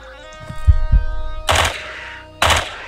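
Gunfire from a weapon in the video game Quasimorph: a couple of quick low thuds followed by two loud, sharp bursts with noisy tails, set against a sustained tonal background of game music.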